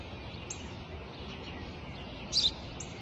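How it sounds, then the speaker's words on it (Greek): A few faint, high sparrow chirps, spaced apart, over a steady hiss of background noise. "Ένα σπουργίτη είναι, πατέρα."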